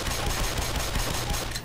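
Rapid automatic gunfire in Black Mesa, a continuous stream of close, loud shots in steady rhythm with no talking.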